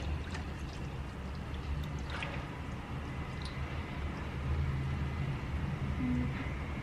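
Coconut milk is poured into a pot of potatoes, a steady liquid splash against a constant low background hum.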